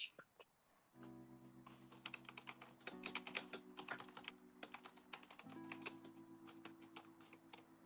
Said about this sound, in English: Sorry, I'm typing away over here.